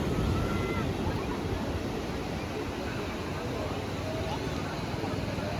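Ocean surf rolls steadily at Chirala Beach in India, a continuous broad wash of breaking waves mixed with gusty wind buffeting the microphone, with no pauses.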